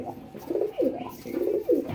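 An adult pair of Shakdom pigeons, male and female, coo close by in a series of about four deep, rolling, swelling calls, each rising and falling, with no talking.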